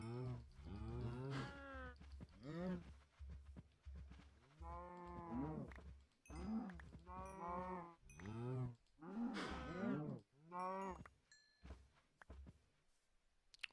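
Cattle moo in the Terracube video game, a series of drawn-out, wavering lows in quick succession with short gaps between calls, fairly clear and close.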